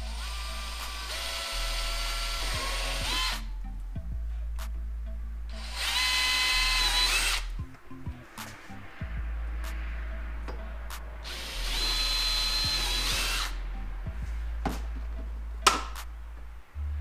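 A power drill whirs in three separate bursts of a few seconds each, with clicks, knocks and low hum between them.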